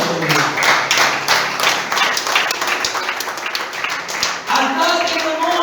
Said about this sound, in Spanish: Aplaudan conmigo.